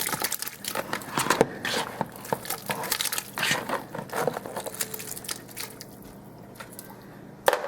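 Rinsed beef tripe for norteño-style menudo goes into a pot with wet squishing and slapping, small drips and the odd knock of the pot, close by and moderately loud, fading to quieter handling near the end.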